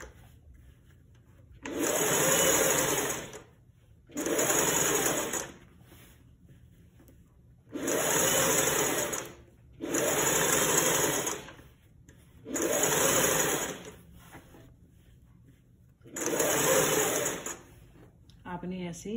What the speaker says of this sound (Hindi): ऐसे आपने यहाँ पर रखकर सिलाई लगा देनी है, ऐसे सेट करते जाना है और सिलाई लगाते जाना है।